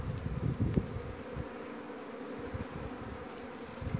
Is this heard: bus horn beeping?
no